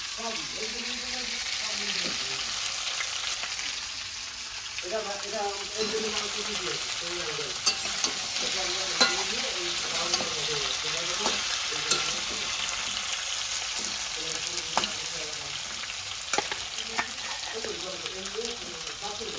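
Mango and jaggery cooking down in a pan give a soft, continuous sizzle with intermittent stirring scrapes and clinks, fairly quiet and close, with a voice murmuring faintly underneath.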